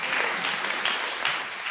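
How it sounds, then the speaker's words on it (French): A church congregation at a sermon breaks into brief, dense applause, a steady wash of many hands at an even, moderate level. "Est-ce que quelqu'un peut applaudir pour ça?"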